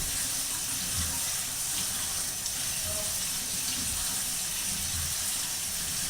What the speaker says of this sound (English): So, I'm going to put cold water on these